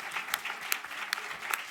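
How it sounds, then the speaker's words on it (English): Faint, distant applause from a conference audience honoring a panel, soft steady clapping with a few sharper individual claps standing out over a short stretch. "Please help me in giving a round of applause to our wonderful panelists."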